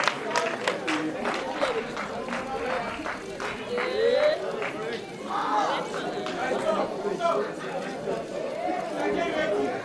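Audience at a journalists' awards ceremony gives a round of applause, steady clapping blended with crowd chatter and some voices throughout.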